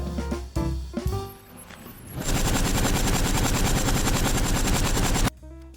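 In PUBG, after a couple of sharp shots, a long burst of rapid automatic AK rifle fire rattles on steadily for about three seconds, loud and close, then cuts off.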